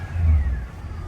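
A 1965 Oldsmobile Cutlass engine catches and revs, a brief, close, deep rumble that swells and then eases off.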